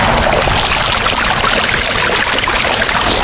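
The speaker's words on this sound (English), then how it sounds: "You have water falling on water, which is where you get your most sound. So here you're falling into a pool, so that's even better." A Spruce five-stack cascading waterfall drops water through a series of tiers into a pool, making a loud, steady rushing splash that fills the whole moment without a break.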